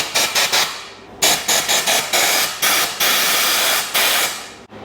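Compressed air from an air compressor blasts through a part of a 1965 Honda CB450 Black Bomber motorcycle in loud, hissing bursts, short puffs first, then longer sustained blows.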